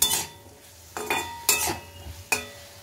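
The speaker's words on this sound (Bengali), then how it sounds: "এটা স্টকটা দিয়ে দিয়ে আমি ভাজছি, তাহলে না জিনিসটা আরও টেস্টি হবে।" Food frying in a pan with stock for a home lunch dish, with four sharp bursts of sizzling and clinking as a utensil stirs and scrapes, each hiss fading between strokes.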